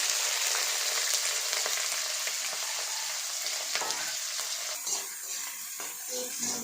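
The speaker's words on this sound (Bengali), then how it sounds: "এই যে আমি পেঁয়াজ মরিচ দিলাম" Onions and chili sizzle loudly in a hot pan as the base for a duck curry, a dense, constant crackling fry that softens a little toward the end, with occasional stirring clinks.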